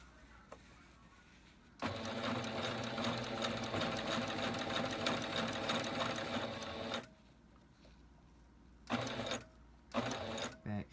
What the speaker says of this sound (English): Back stitch, lock that stitch in, forward stitch.